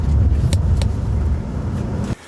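A truck rolls into a parking spot at a Bonaire shore dive site, its engine rumbling steadily up close before cutting off abruptly near the end.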